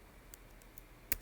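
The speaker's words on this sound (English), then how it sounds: "I'm just going to start typing" Numbers typed on a computer keyboard, a few sparse soft clicks followed by one sharper keystroke near the end, close and quiet with no talking.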